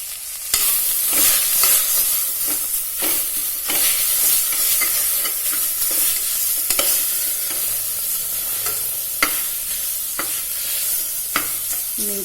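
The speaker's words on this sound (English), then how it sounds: "Give it a bit of a stir." Methi leaves stirred in a hot pan, a loud continuous sizzle broken by repeated sharp scrapes and clacks of the spoon against the pan, close and without talk.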